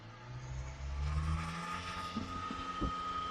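A 1997 Subaru Sambar van, low on acceleration and with nasty-looking coolant, drives along with a steady low engine drone and road noise, rising slightly as it moves, with no voices.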